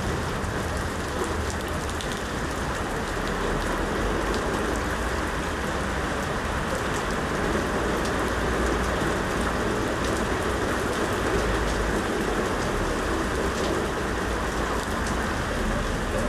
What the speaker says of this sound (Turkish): sağanağa yakalandık.